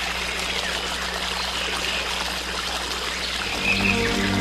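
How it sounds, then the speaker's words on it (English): A forest stream flows gently in the Amazon region, a continuous close trickle and rush of water that holds steady throughout and swells slightly near the end, with no speech. "the gentle flow of water"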